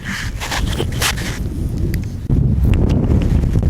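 Strong outdoor wind buffeting a microphone in a village setting, a loud continuous low rumble with rustling gusts that surges even louder partway through.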